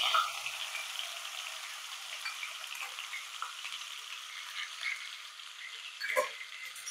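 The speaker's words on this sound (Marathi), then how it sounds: "आपण हे केलेलं आलं मिरची लसूणचं वाटण टाकायचं" Ginger, green chili and garlic paste fries in hot oil with asafoetida, giving a steady close sizzle and crackle with a few stirring clinks, heard alone without talk.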